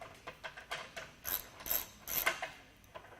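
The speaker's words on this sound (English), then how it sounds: "I'm using a 1/2 inch socket." A 1/2 inch socket wrench ratchets in quick, light clicking strokes, fairly faint and close, repeating steadily for a few seconds with no voices.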